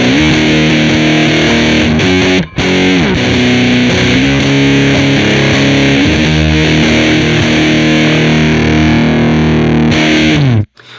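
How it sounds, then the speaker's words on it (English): An electric guitar plays through a Stone Deaf QBoost pedal in vintage mode, producing loud, saturated, crunchy sustained chords with heavy breakup, one brief pause early, then ringing out before stopping abruptly. "if we switch over to vintage mode, we're gonna get a lot more breakup just inherently in the pedal"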